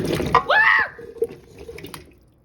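A quick liquid splash and sizzle near the cooking surface while onions, carrots and potatoes are added for a pot roast, followed by soft clatter and low kitchen noise.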